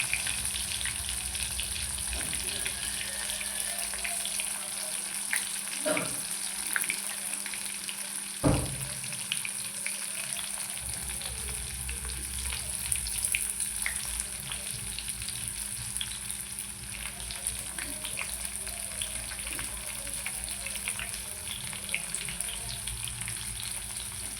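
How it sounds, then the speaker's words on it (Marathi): Masala-stuffed bitter gourd fries in hot oil with a steady close sizzle and crackle, a few brief knocks and a faint running-water hiss behind it, and no talking. "आता आपण तेलामध्ये हे कारले टाकून देऊ."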